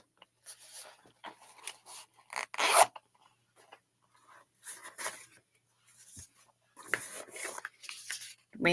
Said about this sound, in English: Cute little beaded zipper pull.